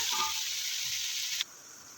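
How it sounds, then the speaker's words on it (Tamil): Onions sizzle in a pan while being sautéed for chicken biryani, a steady close frying hiss that drops off abruptly near the end. "வெங்காயம் கொஞ்சம் வதங்கியிருக்கு இன்னும் கொஞ்சம் நல்லா வதங்கட்டும்"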